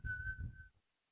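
A person whistles one soft, steady note for under a second to imitate a gentle whistling sound, over a low murmur, then it falls silent.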